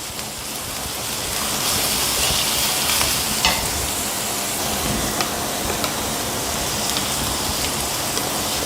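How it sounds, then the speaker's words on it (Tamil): Steady sizzling and crackling of vegetables being stir-fried in a hot pan for vegetable fried rice, continuous and close, with occasional scraping stirs. "இது எல்லாத்தையும் நல்லா வதக்கிக்கோங்க."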